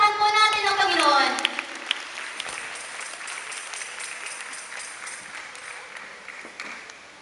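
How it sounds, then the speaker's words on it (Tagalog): Church congregation clapping in praise, a sustained wash of applause that starts under a singing voice and then continues alone, gradually fading toward the end. "Sige po, palakpakan po natin ang Panginoon."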